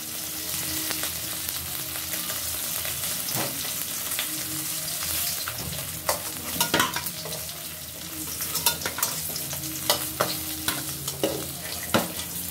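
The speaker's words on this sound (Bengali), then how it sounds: "আমার মাথাগুলো বেশ লাল লাল করে ভাজা হয়ে গেছে।" Rohu fish heads frying in oil, a continuous close sizzle broken by repeated sharp clinks and scrapes of stirring that come more often in the second half, with no one talking.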